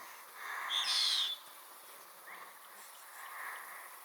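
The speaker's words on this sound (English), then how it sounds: "This is the striped kingfisher." A striped kingfisher gives a brief high, sharp call near the start, then faint trailing notes over a quiet outdoor background in the Lewa Wilderness.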